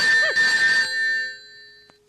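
A telephone rings in a Malayalam comedy film scene: a bright electronic ringtone plays loudly for under a second, then its tones ring out and fade, followed by a faint click.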